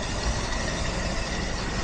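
A 28-year-old van's engine idles close by, a continuous low rumble with a constant hum and no talking.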